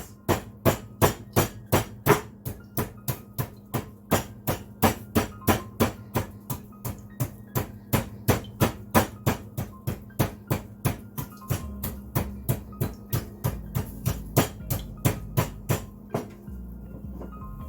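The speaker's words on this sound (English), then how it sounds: "So I like to pound the ginger like this." Steady pounding of ginger, roughly two dull thuds per second, close and fairly loud, continuing for the whole stretch with no voices.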